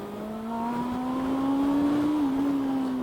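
A 2022 Honda CB400 Super Four engine revs steadily upward as the VTEC kicks in, a loud, close, smooth inline-four drone that climbs in pitch and then dips slightly, with no talk.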